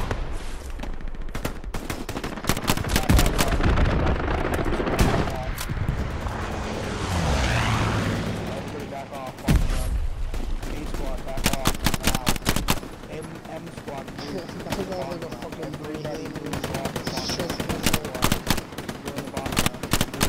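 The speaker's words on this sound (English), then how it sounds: "I'm gonna put a bombing run in." Rapid gunfire bursts and booming explosions from a bombing run in a war video game, loud and near, with excited players talking over the continuous combat.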